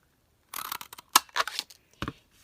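Scissors trim a small leftover bit of paper around a punched circle in a papercraft project, a close, crisp run of snipping cuts with short pauses, louder sharp closes near the middle and one more snip at the end.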